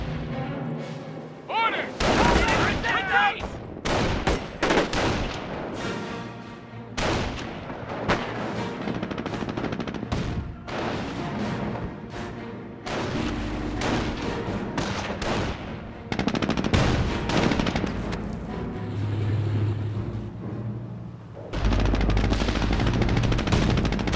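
Sustained machine-gun and rifle fire with heavy explosions rattles through a Company of Heroes Online battle, loud and nearly continuous in dense bursts with brief lulls, over a low rumble of combat.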